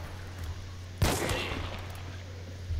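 A single sharp pistol shot in the video game Hunt: Showdown rings out close, followed by a brief echoing tail over low background hum.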